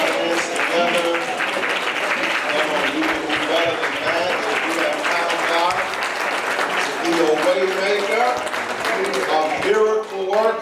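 A congregation clapping in unison at a church service, loud and sustained for about ten seconds, with singing and voices carrying over the steady rhythmic claps.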